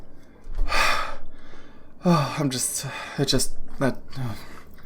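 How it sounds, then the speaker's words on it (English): A roleplay game player voices a character collapsing on the floor and breathing heavily, giving a run of loud gasps and panting exhales close to the microphone, mixed with vocal sounds. "collapses back on the floor and is like breathing heavily"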